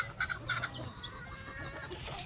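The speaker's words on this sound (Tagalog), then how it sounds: "Mahigit daw po 12 years na itong manok na ito." Hens clucking on a small farm: a few short, close clucks in the first moment, then softer scattered calls over a steady background hum.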